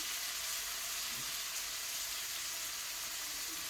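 Steak-dinner food covered in butter sizzles on a farm grill, a steady, dense hiss that holds evenly throughout with no voices.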